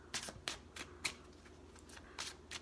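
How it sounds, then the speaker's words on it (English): Tarot cards being pulled and shuffled by hand in quick, soft riffling bursts, several short rustles spaced about half a second apart, close and quiet with no talk. "I'm gonna pull some cards out for clarification."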